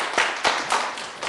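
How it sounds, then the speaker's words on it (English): A few scattered hand claps at a school graduation, about four sharp slaps spaced irregularly over a second, fairly close and thin rather than a full crowd. "Let's give her a round of applause."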